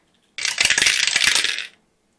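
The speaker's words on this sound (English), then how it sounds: "Let's roll some dice on this." Dice are rolled during a Mage Knight dungeon crawl tabletop game, a single loud rattling clatter lasting just over a second, close and alone.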